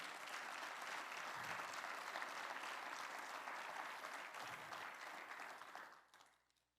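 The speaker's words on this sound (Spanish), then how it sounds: "Dele un aplauso al Espíritu Santo" A crowd at a church service applauds loudly and steadily for several seconds, then the clapping quickly dies away to near silence at the end.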